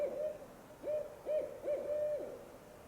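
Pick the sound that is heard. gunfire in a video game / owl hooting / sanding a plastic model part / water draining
owl hooting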